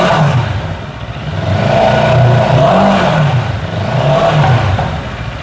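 A QJ SRT 700 motorcycle engine revs up twice, swelling and easing back in two smooth waves over a steady idle, loud and close with no talk.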